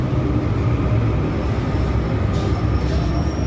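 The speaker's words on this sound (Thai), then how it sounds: "ดูรถไฟนะคะที่ วิ่งภายในเมืองที่ปารีสนี่แหละค่ะ" Steady, loud rumble of a crowded passenger train running through Paris, a continuous low roar with faint high whine, no voices.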